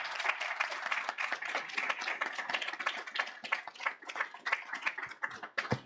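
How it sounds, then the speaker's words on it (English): An audience at an evening lightning talks event bursts into sustained applause, dense overlapping claps at moderate distance, continuing steadily throughout. "Let's give a round of applause to"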